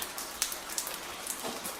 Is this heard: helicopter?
no